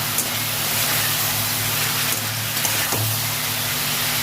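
Spices with coriander being sautéed in a pan, a continuous dense hissing sizzle with a faint low hum beneath and a couple of soft clicks.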